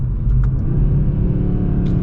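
A 2023 Audi RS3 accelerates with a deep, loud engine rumble heard from inside the car, steady and low with slight surges, and no talking over it.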